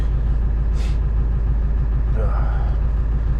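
A vehicle engine idles with a low, steady rumble up close, a brief hiss of air early on and faint voice-like sounds later.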